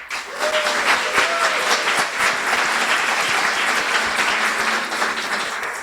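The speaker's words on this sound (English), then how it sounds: "Let's give one last warm round of applause to all of our graduates." Sustained applause from an audience at a guide dog school's class graduation ceremony, steady and fairly loud throughout.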